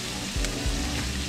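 A splash of liquid smoke hitting a hot pan, setting off a soft, steady sizzle and frying crackle with a couple of brief surges as the liquid lands.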